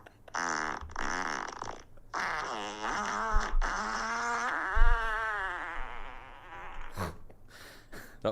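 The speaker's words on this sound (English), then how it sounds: "I've been added to a group where men record themselves farting." Recorded farts played back from a phone, a series of long, wavering, buzzy blasts, each several seconds, with a few short pauses, fairly close and loud.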